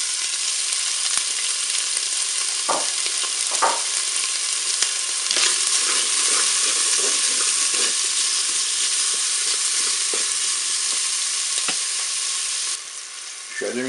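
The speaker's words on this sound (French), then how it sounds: "je vais faire revenir mes lardons." Bacon lardons fry in a little oil inside a Cookeo multicooker pot, giving a steady, close hiss and crackle, with a few soft scrapes and knocks from stirring.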